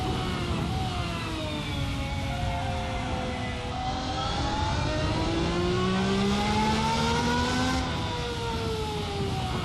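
A detuned V12 engine in a sim racing game revs continuously and loudly, its harmonic tones rising and falling steadily with no talk over it.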